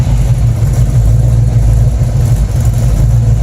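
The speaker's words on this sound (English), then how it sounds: "A little choppy, gotta adjust that idle, but exhaust looks good." A Chevrolet Nova with a new Pypes 3-inch exhaust idles up close, a loud, deep, slightly choppy rumble pulsing unevenly and continuously with no talk.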